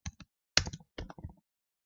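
Short bursts of typing on a computer keyboard, a few quick clustered keystroke clicks in separate groups, close and fairly quiet against silence.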